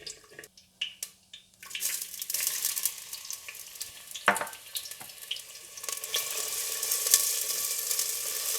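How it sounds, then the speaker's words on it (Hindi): Steady sizzling and crackling of onions frying in hot ghee, with a few clinks and clatters early on before the hiss settles in continuously. "आप घी गरम करें और इसमें प्याज डालकर हल्का गोल्डन ब्राउन कर लें।"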